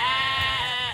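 A sheep bleats in one sustained, wavering cry, close and fairly loud, heard alone without speech.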